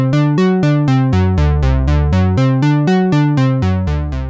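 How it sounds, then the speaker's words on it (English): A clean, polite synthesizer line plays a quick repeating sequence of bright, evenly spaced notes that bounce between pitches, loud and up close with no voices. "it's useful for taking nice, polite synth lines like this"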